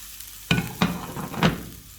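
Garlic and bread cubes drop into hot oil in a pan for croutons, giving three sharp sizzling bursts with stirring scrapes between them. It sounds close, and no one speaks.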